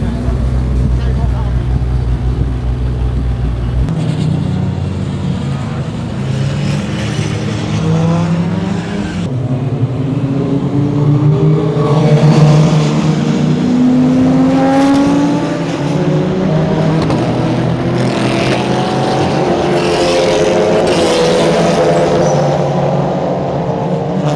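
Praga race cars accelerate away from a restart at Donington Park at night, engines climbing through the gears in repeated rising whines, close and loud. Someone talks over the racing.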